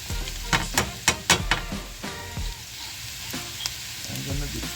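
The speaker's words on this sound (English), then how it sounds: "I'm gonna fry up my saltfish with my onion." Jamaican saltfish frying with onion in a pan, with a series of loud stirring scrapes and clatters over a bubbling sizzle, close by, then a quieter stretch of frying.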